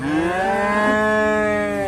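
A single cow, one of the cattle offered for sale, lets out one long, loud, sustained moo that holds steady for nearly two seconds, close by with no talking.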